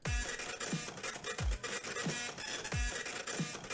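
A dubstep track built from printer noises from the Undertale/Deltarune games plays, with rhythmic mechanical whirs and scratchy printing sounds layered over deep, pulsing drops that repeat at a steady beat.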